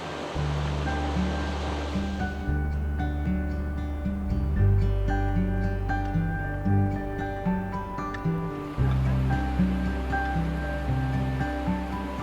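The river in Mostar, near the old stone bridge, gives off a continuous rushing wash of flowing water that stays steady throughout. Sustained musical tones play over it.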